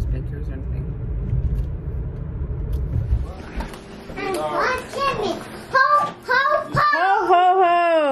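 A car driving home through Farmington traffic, its low engine rumble steady for the first few seconds, then fading under continuous close talk and a voice, with the voices dominating the rest.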